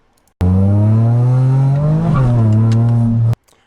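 A 2009 Mitsubishi Eclipse GT engine accelerating, loud and close, rising steadily in pitch with a brief wobble before climbing again, then cutting off abruptly after about three seconds.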